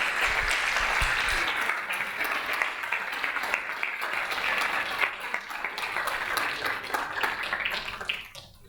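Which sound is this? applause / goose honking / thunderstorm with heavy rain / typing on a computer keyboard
applause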